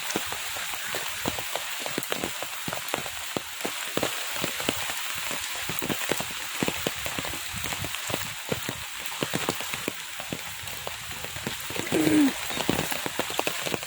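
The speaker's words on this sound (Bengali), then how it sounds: "বৃষ্টি কিছুতেই থামতে চাইছে না।" Heavy, steady rain falls on a surface beside a vegetable stall stacked with greens and sacks of gourds, a dense continuous hiss with pattering drops throughout and no talking.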